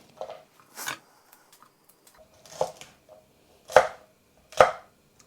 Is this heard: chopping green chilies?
yes